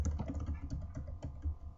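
Typing on a computer keyboard while entering web citation details: a quiet, irregular patter of close key clicks with small pauses, and no voice.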